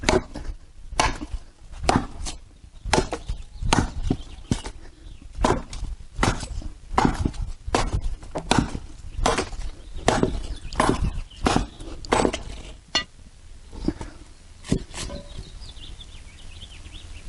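Sharp, loud chopping impacts of an axe on dry eucalyptus wood, struck repeatedly at a steady rhythm with short pauses, no talking.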